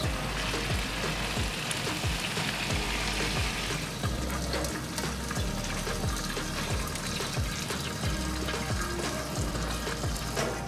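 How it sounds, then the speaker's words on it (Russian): Chicken breast sizzling in a pan over a campfire outdoors, a steady dense frying hiss with crackling that runs unbroken throughout. "пока жарится курица"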